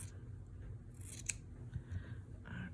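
Scissors trim fabric scraps for hand-sewn boxes, faint close snipping strokes over a low background hum.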